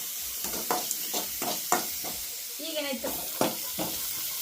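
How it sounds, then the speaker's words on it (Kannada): Chopped onions frying with salt in a pan over a village kitchen fire: a steady hissing sizzle with rhythmic stirring scrapes, under a voice speaking near the end. "ಈಗ ನೋಡ್ರಿ ಉಳ್ಳಾಗಡ್ಡಿ ನೋಡ್ರಿ ಹುರಿದಾವ"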